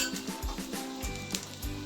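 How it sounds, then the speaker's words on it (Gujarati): A Chinese-style vegetable Frankie roll roasts in ghee on a pan, giving a brief, close sizzle with a few soft scrapes and clinks and no talking. "આવી રીતે ગોલ્ડન બ્રાઉન થાય ત્યાં સુધી આપણે એને થોડો ક્રિસ્પી એવો શેકવાનું છે."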